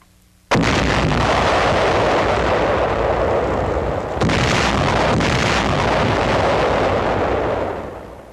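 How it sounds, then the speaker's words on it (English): German wooden box anti-tank mines are detonated in a secluded area, a sudden heavy blast that rolls into a long, loud roaring rumble with a second surge midway before slowly fading. "The mines are carried to a secluded area and then destroyed."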